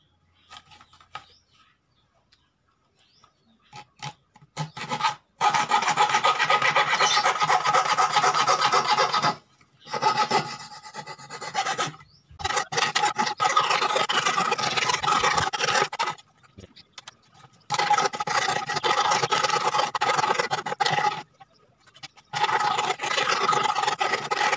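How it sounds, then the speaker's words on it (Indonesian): A hand saw cuts plywood for a tissue box, rasping back and forth up close in several long bursts of strokes separated by short pauses, with no talking. "Kita menggunakan gergaji ini."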